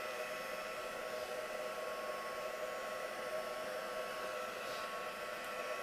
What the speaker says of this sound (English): So I'm just going to emboss this now.